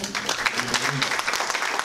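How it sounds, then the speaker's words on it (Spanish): Applause from attendees at a business conference presenting a large real-estate project, short bursts of clapping mixed with a voice murmuring underneath, brief and moderately loud. "Démosle un cálido aplauso."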